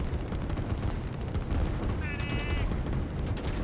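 Artillery fire in the strategy game Line War rumbles as a constant, loud barrage of booms and crackling shots that fills the whole stretch, with someone talking over it.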